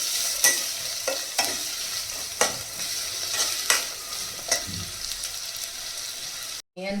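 Onions fry in a pan for a prawn and okra curry, giving a constant sizzle with a few sharp stirring scrapes and a short watery splash near the end, and no one speaking.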